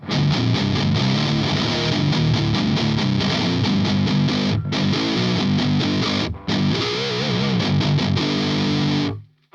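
Heavily distorted electric guitar played loud through a Marshall amp head, sustained chords and riffs with two brief drop-outs before cutting off.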